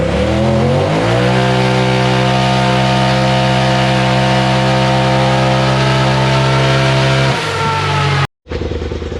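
A 2018 Polaris 1000 Turbo engine, fitted with a MoTeC ECU, revs hard on a dyno, climbing to a loud sustained high-RPM drone, then dropping off abruptly before a brief cut and a restart, very close.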